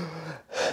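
A person imitates a hard, ragged breathing gasp after a strenuous uphill bike ride, a single short sharp intake of air standing alone and fairly close.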